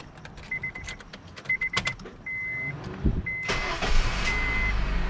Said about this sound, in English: So I'm going to be starting up the vehicle.